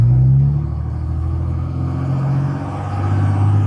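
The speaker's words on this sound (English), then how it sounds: "First gear, second gear, first to second, second to third." A 2007 Dodge Ram pickup drives along with a steady low engine rumble, the pitch dipping and rising as the transmission shifts gears, heard from inside with no talk.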